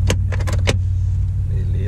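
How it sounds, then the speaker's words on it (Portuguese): The handbrake of a Chevrolet Blazer DLX V6 is released with a quick series of sharp ratcheting clicks inside the cabin, over the steady low hum of the idling engine. "Vou tirar o freio de mão."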